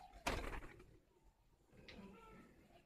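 A short cooing call from a pigeon or dove close by, one soft phrase over quiet background with a sharp knock or door-like clatter near the start, no speech.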